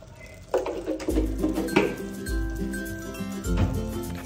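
Mutton drumstick curry being stirred just after curry leaves go in: metal spoon clinks and scrapes against the pot in an irregular run, with a steady low cooking hum beneath.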